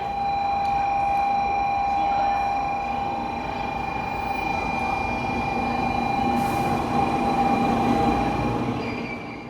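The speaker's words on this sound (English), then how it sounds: "was our train for today's ride to Osaka, an N700A series Shinkansen" An N700A series Shinkansen bullet train runs through a station on the way to Osaka, a loud continuous rushing roar with steady high whine tones, close and sustained throughout with no talking.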